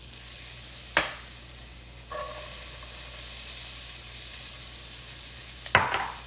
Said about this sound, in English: melt some butter in a pan. And then we're going to add half of an onion that has been chopped.